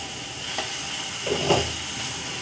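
Turmeric paste going into a frying pan of hot oil raises a steady broadband sizzle, with a brief stronger hiss and stir near the middle, heard up close in a kitchen with no talking.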